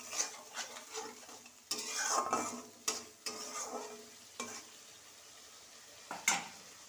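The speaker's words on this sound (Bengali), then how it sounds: "ভালো করে কষে নেব।" Spice paste of turmeric, chilli, cumin, coriander and ginger, mixed with water, is stir-fried for a mankochu kofta curry, with a steady soft sizzle and irregular scraping and clinking of a utensil against the pan.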